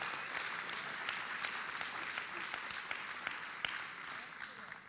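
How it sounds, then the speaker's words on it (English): A church congregation claps for the Lord, with sharp individual claps standing out within a steady round of applause and a voice speaking over it. "Let's give the Lord a clap."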